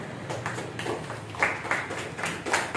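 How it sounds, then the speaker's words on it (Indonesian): A small group in a classroom claps for Kak Syedina, uneven scattered hand claps with sharp individual slaps, moderately close and lasting the whole stretch, with no talking over it. "tepuk tangan untuk Kak Syedina"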